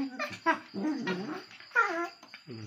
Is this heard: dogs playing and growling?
yes